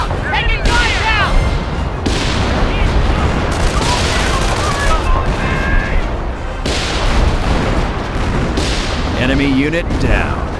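Dense gunfire and artillery from a Company of Heroes battle, with rapid rifle and machine-gun bursts and heavy booms running almost nonstop, loud and close, while game voices call out over the fighting.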